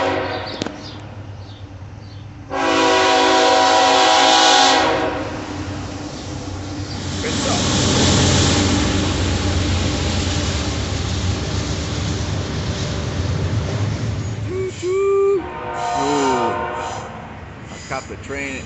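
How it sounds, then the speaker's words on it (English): A train rumbles past loud and close for most of the stretch, with a long horn blast early on, then fades as a voice speaks over the tail end. "We got a train going by."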